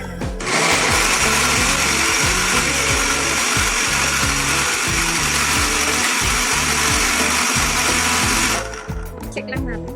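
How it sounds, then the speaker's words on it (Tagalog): A loud blender purees carrots and pumpkin, running continuously for several seconds with a steady grinding whir, then cuts off near the end. "Sige, blender na natin."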